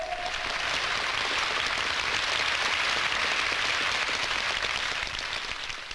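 A large crowd claps steadily in a dense, sustained wash of applause that swells and then slightly fades.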